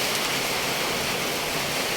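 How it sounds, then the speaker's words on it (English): Gentle night rain in Roxas, Isabela, a steady soft hiss of drops falling without pause, fairly close and even in level, with no voices heard. "So tonight the rain is a little bit gentle."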